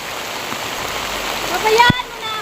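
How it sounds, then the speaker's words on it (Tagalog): Heavy rain pouring steadily as a dense wash of noise, with a person talking over it and a brief thump near the end. "sobrang lakas na ng ulan"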